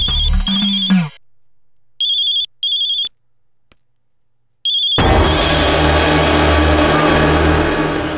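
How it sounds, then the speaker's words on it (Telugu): Outgoing phone call ringback tone: three bursts of a loud electronic ringing repeat with gaps of near silence, then a different ringtone-like electronic tone follows. "వీరభద్రానికే కదా ఫోన్ చేస్తున్నావు?"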